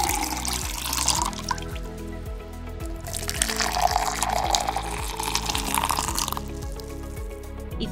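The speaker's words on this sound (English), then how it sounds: "If you think the first glass contained cold water and the second one had hot water" Water poured into two glasses, first cold then hot, a steady close stream with a shift in tone partway through and a brighter, hissier second pour near the end, with no talking.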